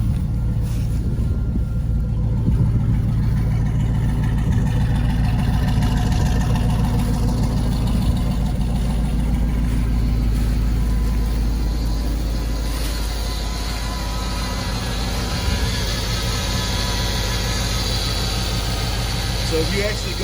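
A 1994 Chevrolet Impala SS V8 engine idles steadily with a low, even rumble throughout, close by and continuous.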